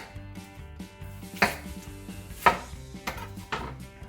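A knife chops an onion on a board in steady, sharp knocks, several crisp strikes in an uneven rhythm, close and clear, with no talking.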